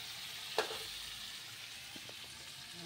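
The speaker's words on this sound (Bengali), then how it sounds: "এই যে কপিটা ভাজা হচ্ছে, আলু ফুলকপি পোস্ত।" Cauliflower and potato pieces fry in a pan for aloo phulkopi posto, giving a soft, steady sizzle throughout with one sharp clink early on, close by and fairly quiet.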